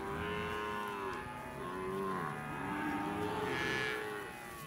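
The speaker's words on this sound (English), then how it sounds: "Nice string of Brahman cows." Brahman cattle lowing in a South Texas pasture, several overlapping moos that rise and fall continuously at moderate distance, with no talk.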